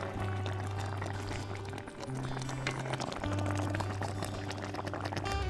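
Pangas fish curry simmering in a pan bubbles softly and steadily, with a fine wet crackle and a low hum behind it, nobody talking.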